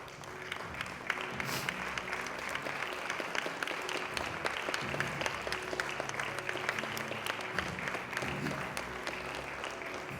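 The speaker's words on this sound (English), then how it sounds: "You're not just getting a round of applause by these people" A church congregation breaks into sustained applause, a dense, steady wash of many hands clapping that fills the room for the whole stretch without letting up.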